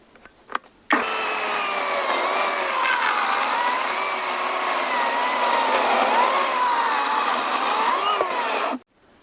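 A Grosser GCS 160 cordless chainsaw cuts through red oak in automatic mode, a loud, steady buzzing whine that runs continuously for about eight seconds, its pitch wavering slightly as it bites, then stops abruptly.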